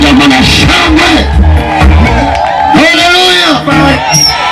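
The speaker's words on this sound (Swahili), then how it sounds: "Weka vigelegele kidogo na shangwe" A church congregation at a lively gospel service breaks into loud ululation and joyful shouting, overlapping voices rising and falling in waves close by.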